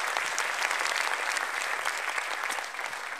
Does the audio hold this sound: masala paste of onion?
no